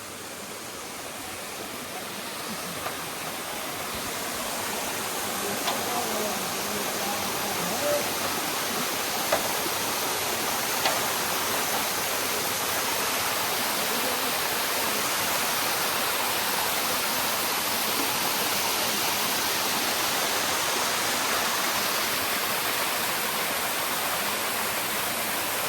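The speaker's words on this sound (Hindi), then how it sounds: "पानी का जल थोड़ा आवाज़ आ रहा है पानी का" Stream water flows through a forest at Lakkad Kot along the Narmada, a dense, steady rushing hiss that swells slightly in the first seconds and then holds loud and even.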